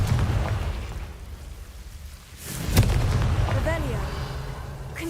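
The Confringo explosive spell in Hogwarts Legacy fires with a sharp blast near the middle, followed by a rumbling tail over game ambience, with a spoken voice around it.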